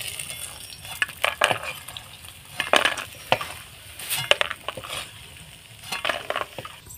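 Bori lentil dumplings fry in hot oil, with a low sizzle beneath repeated scraping and clinking of a spatula against the pan at an irregular stirring rhythm; no speech.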